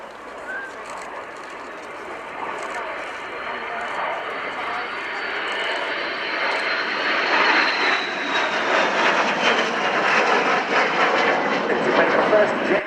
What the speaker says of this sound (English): Here they come in for their first pass and a good chance to see that twin-boom layout.